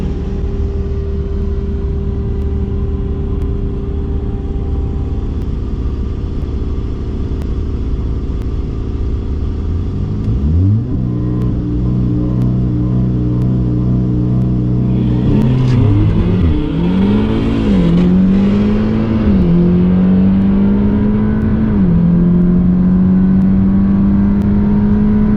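An Audi S3 on a quarter-mile drag run idles loudly, then launches, its engine climbing through the revs with distinct gear changes, each shift dropping the pitch before it rises again, close and loud throughout.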